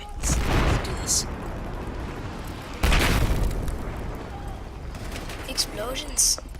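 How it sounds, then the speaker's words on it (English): Heavy booming explosions from Battlefield 4, Conquest mode on the Golmud Railway map, rumble through the clip, with a big blast near the middle and smaller bursts later, mixed with speech. "Explosions."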